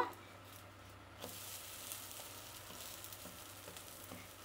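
Uttapam frying in ghee on a hot pan gives a steady, close sizzle with soft crackles. A brief louder hiss early on may be the ghee hitting the pan.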